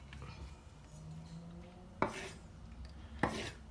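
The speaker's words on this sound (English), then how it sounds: "I'm going to slice it thinly" A knife slices through an avocado on a board, giving two distinct sharp taps as the blade reaches the surface, over faint background noise in a quiet kitchen.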